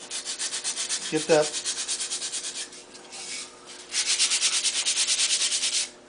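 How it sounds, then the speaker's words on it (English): Edge of a lefse stick rubbed with a piece of sandpaper, brisk back-and-forth rasping strokes in a steady rhythm, close up, pausing midway before a second run of strokes, with a brief spoken word. "I take a piece of sandpaper and basically"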